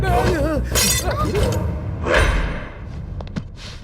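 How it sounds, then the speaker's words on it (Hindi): A framed photo of a wife falls from someone's hand and shatters, a sharp crash of breaking glass with a thud, heard within a comedy scene amid music and voices. "वो गलती से मेरे हाथ से गिर गई"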